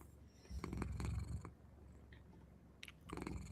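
A cat makes a low, rumbling purr-like sound up close, swelling and fading over a few seconds.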